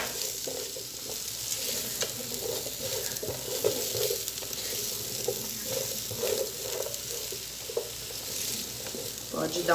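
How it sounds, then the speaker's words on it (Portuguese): Onion and bell pepper sauté in a hot pan for yakisoba, a steady, close sizzle with scraping stir strokes recurring throughout; no one speaks. "Vou vir com a cebola e o pimentão. Dar uma refogada."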